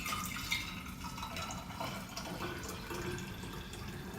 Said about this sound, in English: I'm just going to pour the rest of that into